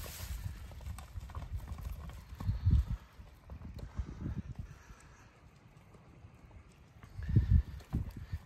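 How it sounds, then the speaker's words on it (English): Hooves clip-clop over the ground in uneven waves, swelling louder twice as a herd of wild mustangs passes nearby in the Nevada outdoors, with breezy noise between. "It's a whole herd of wild Mustangs."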